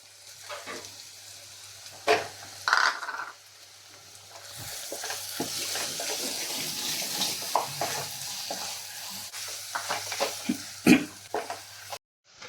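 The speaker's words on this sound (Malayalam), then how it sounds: "ഇതൊന്ന് വഴന്ന് വരട്ടെ ഇനി അടുത്ത് നമ്മൾ ഇഞ്ചിയും വെളുത്തുള്ളിയും പേസ്റ്റ് ഇടുവാണ്" Ginger garlic paste sautéing in a pan for chicken curry, a soft continuous sizzle broken by stirring scrapes and clinks of a spoon against the pan, close and alone.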